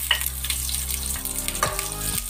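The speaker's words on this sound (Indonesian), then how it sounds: "Lagyan na natin yung bawang at saka luya." Garlic and ginger sautéing in a pan for pinakbet, a steady broadband sizzle close by with a low background hum and a few faint stirring knocks.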